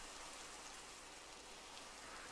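Rain in a Minecraft-style video game, a constant soft hiss of falling drops, steady and fairly quiet throughout with no voices.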